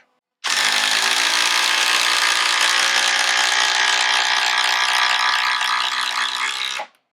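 A 12-volt impact driver drives a five-inch Spax power lag screw in one loud, continuous rattling hammer lasting about six seconds, starting and stopping abruptly, with no voices.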